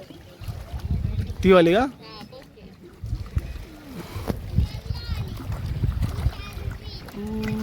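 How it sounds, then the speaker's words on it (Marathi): A speed boat runs on a lake at Panshet near Pune, its motor and water splash rumbling steadily at middle distance beneath almost constant nearby chatter from adults and children. "स्पीड बोट. तो बघा आता का चालेल स्पीड एकदम."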